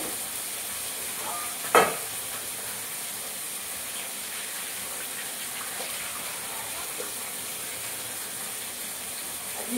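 Spices tipped into hot frying oil for an ilish fish curry give one sharp burst of sizzle. A steady hissing fry follows, close and moderately loud, with faint stirring.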